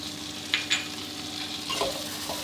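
Egg tofu stir-fried with chili, garlic and seasoning in a hot pan, a steady sizzle broken by a couple of sharp utensil clinks and brief scraping tosses, close up.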